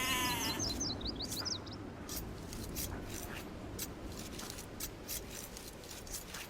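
Sheep bleating in the strategy game Age of Empires II, a brief faint bleat at the start over a quiet, rasping game ambience.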